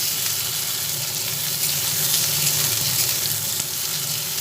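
Tomatoes fry with onions in mustard oil, giving a dense, continuous close-up sizzle that holds evenly throughout with only faint crackles.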